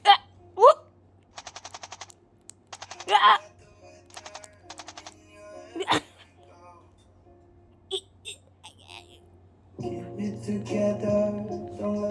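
Cartoon gunfire from a countryballs zombie apocalypse animation crackles in several short, rapid rattling volleys spread across the clip, with a voice and background sound rising near the end.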